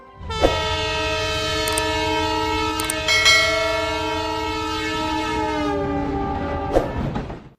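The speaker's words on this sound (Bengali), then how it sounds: "দুটি ইঞ্জিন এবং তিনটি যাত্রীবাহী কোচ দ্বারা গঠিত ছোট একটি ট্রেনের মাধ্যমে যমুনা সেতুতে ট্রায়াল রান করা হবে" A short trial-run train of two engines and three passenger coaches crosses the Jamuna rail bridge, sounding a long, loud, sustained horn with a few sharp clanks and a final horn blast near the end.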